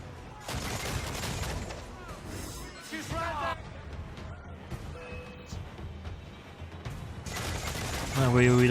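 Cannons fire at gunboats in the naval combat of Assassin's Creed Black Flag. Booming shots and crashing impacts come in bursts under a voice, with a short clanging tone near the end.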